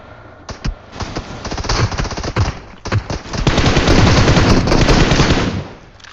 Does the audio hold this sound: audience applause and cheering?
no